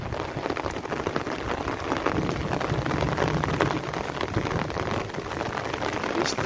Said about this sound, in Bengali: বৃষ্টিটা আবার জোর নামিয়ে দিয়ে, দেখতে পাচ্ছেন বৃষ্টি হচ্ছে,